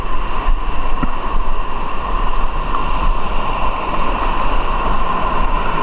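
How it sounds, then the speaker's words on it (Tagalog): Steady broadband roar of sea waves building in size around a fishing spot, wind and surf noise filling the whole span with no voices, loud and continuous. "Lumaki ng alon."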